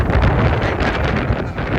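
Strong pre-storm wind sweeping across open crop fields before the rain, roaring loudly and continuously and buffeting the microphone in heavy gusts.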